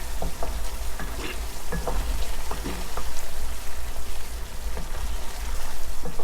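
Spice masala for snakehead fish dopiaza frying and being stirred in a pan, a steady loud sizzle with scraping spoon strokes close up, no talking.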